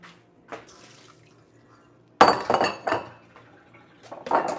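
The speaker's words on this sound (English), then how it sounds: "now I'm gonna drain this." Spring water poured off from a bowl while preparing raw creamy Alfredo pasta, a quiet trickle followed by a louder splashing burst with glassy clinks and drips, then a brief pause and another splash.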